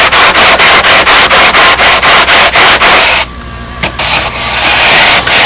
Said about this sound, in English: all this cosmetic sanding, this is nonsense